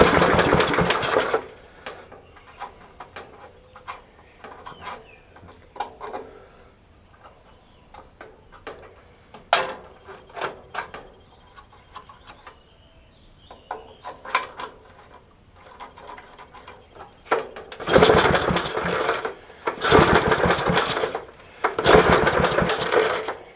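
A 1966 Briggs & Stratton lawn mower engine running on premix fuel, mostly quiet clicking and ticking at first, then three loud, rough bursts of running close by near the end.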